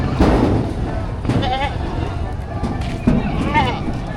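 Female goats bleat a few times nearby amid a noisy outdoor livestock market in Padre Garcia, Batangas, with people talking over and around the calls.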